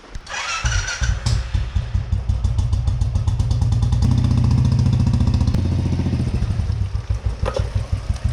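Royal Enfield Bullet motorcycle starting up for a ride, its single-cylinder engine firing into a loud, close thumping idle with steady rhythmic pulses that rise briefly in revs and then settle.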